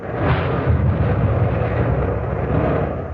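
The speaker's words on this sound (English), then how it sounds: "At that moment, a shell was fired from HMS Artemis" A warship's naval gun fires a shell as a radio drama sound effect: a single sustained, rumbling boom that fills the whole moment, loud and alone without voices.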